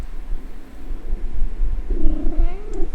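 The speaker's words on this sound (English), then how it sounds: "Yeah, you're a good cat." A cat purrs with a low, rough rumble close by, then lets out a drawn-out meow near the end, loud and without talk.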